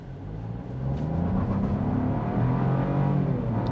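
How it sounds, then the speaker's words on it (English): A 2024 Buick Envista Avenir SUV engine is floored from a standstill, a loud steady acceleration roar that builds and holds through a gear, with road and wheel noise underneath and no talk. "and then we'll just floor it."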